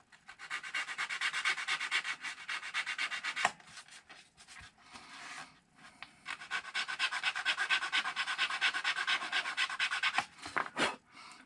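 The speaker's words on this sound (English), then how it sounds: "I'm going to have to sand that a little bit or file it a little bit" Sanding or filing on a part of an ArmSoar E-Medina 2m electric glider, heard as steady back-and-forth rasping strokes, close and fairly loud, with brief pauses around the fourth, sixth and tenth seconds.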